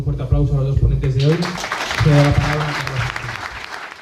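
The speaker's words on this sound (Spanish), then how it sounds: "un fuerte aplauso a los dos ponentes de hoy." An audience at a Spanish-language book presentation applauds the day's two speakers; clapping swells behind a voice, which breaks off and resumes before the applause carries on alone.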